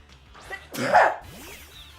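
A single sharp sneeze bursts out close by, preceded by a short intake of breath and followed by quiet rustling.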